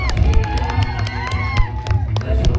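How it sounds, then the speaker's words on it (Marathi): An outdoor village audience at a comedy skit cheers, whoops and shouts loudly and continuously, with high calls and whistles over a dense crowd roar and some scattered clapping. "जोरात टाळ्या वाजवा प्रेक्षकांनी."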